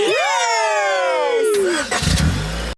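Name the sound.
cartoon car engine starting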